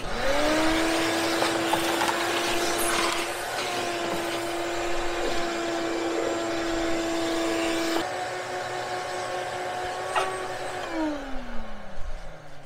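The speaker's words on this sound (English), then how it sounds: "I think this vacuum is broken." A vacuum cleaner, apparently broken, runs with a steady, loud whine while cleaning a Ranchero's interior, its pitch holding level before winding down near the end, with small bumps and rattles along the way.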